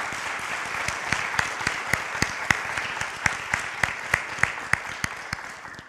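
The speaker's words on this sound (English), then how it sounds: "Would you give her a round of applause" Applause from a church congregation honoring a volunteer, a soft bed of many clapping hands with sharper individual claps standing out in a steady beat, lasting about six seconds without speech.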